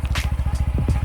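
Yamaha NMAX scooter fitted with a JVT Pipe V3 exhaust idling at its quietest setting, a close, steady low-pitched rapid putter with even pulsing beats and brief higher bursts.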